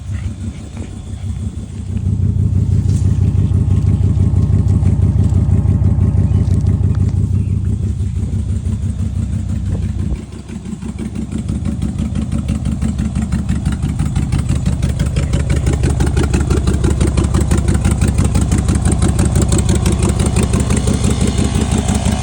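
A cheap $15 Walmart air compressor runs steadily while inflating a Chevy Silverado tire, a loud continuous motor drone with a throbbing buzz that dips briefly twice and then carries on without talk.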